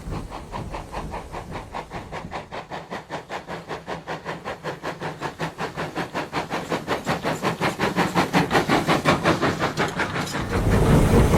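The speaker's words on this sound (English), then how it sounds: "Quite a steep climb this, it's 1 in 75 all the way up, so the engine has to work quite hard." A Western steam locomotive labours up a steep 1 in 75 climb on greasy, damp rails, its loud rhythmic exhaust beats chuffing steadily and growing stronger and closer, with a continuous hiss beneath.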